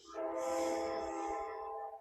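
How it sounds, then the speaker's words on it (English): A train passes nearby, its horn blaring a sustained chord for about two seconds over low rumbling, rising in and then fading. "There's a train going by?"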